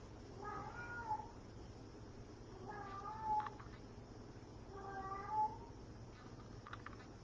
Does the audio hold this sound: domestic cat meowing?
yes